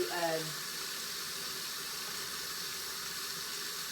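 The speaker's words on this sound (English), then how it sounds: "we're gonna wash them really, really good" Apples being washed and soaked in water, a steady broadband rush like running tap water filling a sink, continuous and even throughout, with a brief murmur of voice at the very start.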